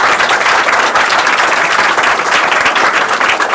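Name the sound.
audience applause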